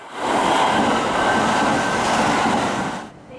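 A Kintetsu express train rushes through a station at speed, a loud, steady roar of wheels and rumble that holds for about three seconds before dropping away.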